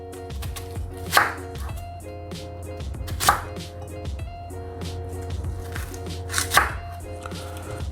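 A sharp knife slices an onion on a cutting board in a home kitchen, with crisp, close chops and three louder strikes spaced a couple of seconds apart.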